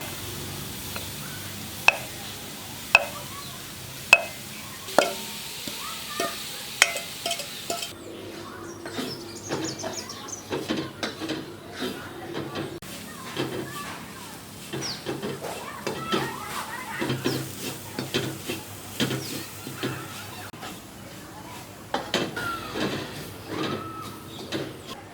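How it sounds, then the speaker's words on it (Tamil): Grated fresh coconut being dry-roasted in a pan at home, with sharp scraping knocks of a spatula early on, then continuous soft rustling, stirring and light sizzling, close by, with occasional voices. "அதை நல்லா ட்ரை ரோஸ்ட்டாக நல்லா வறுத்துக்கணும்."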